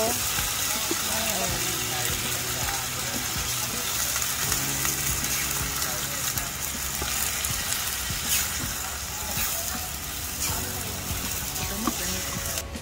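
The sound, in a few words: sizzling squid sautéed with tomatoes in a pan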